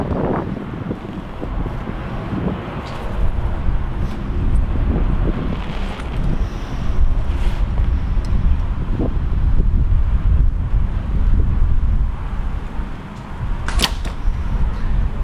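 Steady gusting wind buffets the microphone outdoors during compound bow shooting, a loud low rumble that swells and eases with a few faint clicks and knocks underneath.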